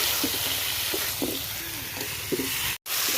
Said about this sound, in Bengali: আলুর সঙ্গে কষাই নিচ্ছি, এখন এই যে মাছগুলো দিয়ে দিচ্ছি, ভালো করে কষাই নেব